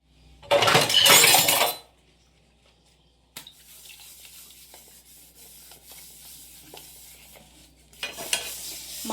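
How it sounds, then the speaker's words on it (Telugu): Dishes being washed at a home kitchen sink: loud bursts of running tap water at the start and end, with quieter clinks and scraping of utensils between them. "గిన్నెలు కొన్ని ఉన్నాయండి, కడిగేస్తాను"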